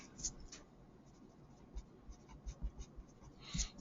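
Pen or pencil scratches on paper while units are written out during a stoichiometry problem, faint short strokes in small bursts, close by and quiet in an otherwise still room.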